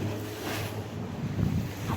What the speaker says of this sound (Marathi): बघ ती लाट बघ कसली आहे मागे मोठी.